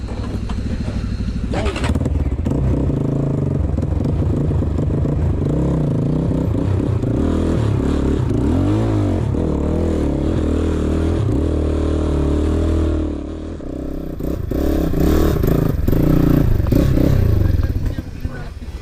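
An off-road motorcycle strains up a steep hill, its engine droning loud and close with rising revs and clattering as the rider struggles, then easing briefly before surging again; people talk nearby.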